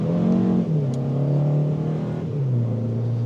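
A 2025 Kia K4 GT-Line Turbo engine hums steadily from inside the cabin, its pitch sliding down and settling into a smooth, moderate rev.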